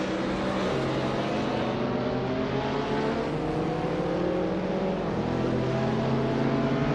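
Turbocharged rotary engine of a 1989 Mazda RX-7 Turbo racing in a driving game, a steady high-revving drone with rising and falling pitch sweeps, loud and continuous throughout with no talk.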